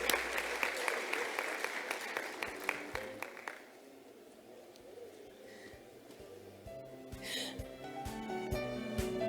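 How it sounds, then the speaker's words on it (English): Audience applause at a Women in Science awards ceremony, a sparse patter of claps that fades to quiet room tone before another smattering of clapping and shuffling returns near the end. "Let's give her a round of applause"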